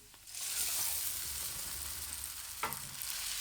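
Chicken sizzling and frying in a hot pan, a steady crackling hiss with a brief clatter of stirring near the end.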